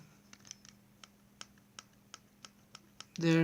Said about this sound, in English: you can hear all those metallic noise